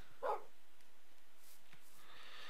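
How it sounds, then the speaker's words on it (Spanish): A single short dog bark or yelp in Minecraft, faint and brief near the start, followed by quiet game ambience. "¿Qué le pasa al puto perro, tío?"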